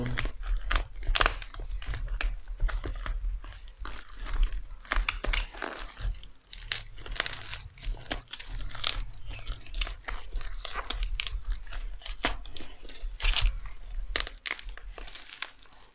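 A Haw Flakes snack package being opened up close, with dense crinkling and crackling of wrapper plastic and sharp tearing and crunching bursts continuing steadily, no voices.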